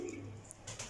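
Pigeons cooing in a pigeon keeper's loft, soft low coos with faint chirps over a steady hum, quiet and brief.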